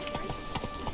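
Horse hooves clip-clop in a steady, close rhythm of several distinct strikes in a video game, with no talking.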